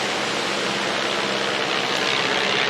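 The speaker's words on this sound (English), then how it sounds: "overhead somebody's flying an aeroplane." A plane passes overhead above a sandy coastline in Victoria, Australia, a steady, broad engine roar that stays fairly loud and constant throughout.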